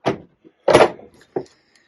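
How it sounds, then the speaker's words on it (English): An anchor-shaped door knocker on a houseboat door raps three times in uneven succession, each knock a short, close, solid thud with quiet between. "Got a little anchor door knocker."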